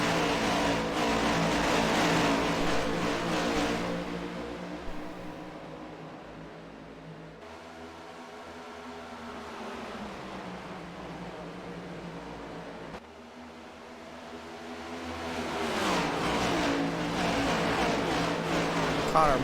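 A field of HTL Cup Series race cars accelerates at a green flag restart in the Concord Foods 200, engines rising in a loud sustained roar that swells and dips through gear changes, with a commentator's voice intermittently over it.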